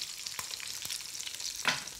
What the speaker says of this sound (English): So you can hear them sizzling straight away.